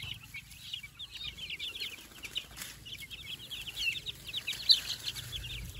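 Chicks cluck and chirp steadily while ranging outdoors in a busy background, the calls coming in quick, overlapping bursts at moderate distance.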